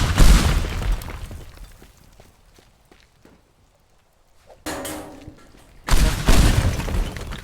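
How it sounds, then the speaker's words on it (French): Explosions bring down a tower in the destruction video game Teardown: a loud blast with rumbling debris, a quiet lull with scattered crumbling, then two more sudden booming bursts close together. "on va mettre un max d'explosion à l'intérieur"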